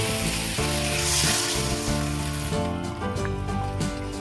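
Water hits a hot pan of sautéed tomatoes and sets off a loud, sustained hissing sizzle that fades slightly toward the end, with tonal music playing underneath.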